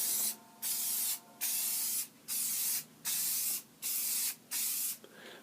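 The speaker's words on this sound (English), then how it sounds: "this is the clear coat. We are now going to spray it nice" An aerosol can sprays clear gloss coat onto a drum head logo in six even, evenly spaced bursts of close hissing, with short quiet pauses between them.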